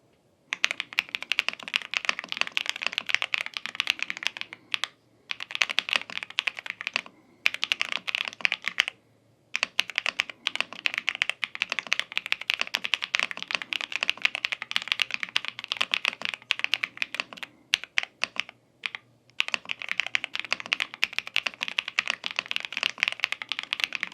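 Keys clack rapidly and continuously on a Royal Kludge R65 wireless mechanical keyboard, a dense patter of clicks broken by a few short pauses, close and clear.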